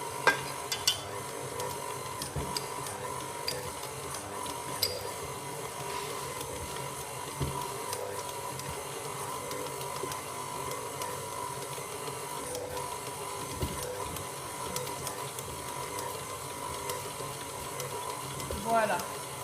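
A KitchenAid stand mixer kneading brioche dough, a steady motor whir with soft rhythmic thumps and clicks running throughout while someone talks.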